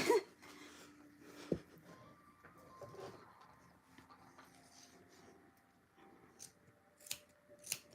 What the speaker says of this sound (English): They do not snip like they once snipped before.